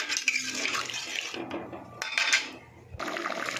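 Water pours into jackfruit curry cooking in a pan, a close rushing splash that starts, breaks off briefly and resumes, with light clinks of a utensil and no talking.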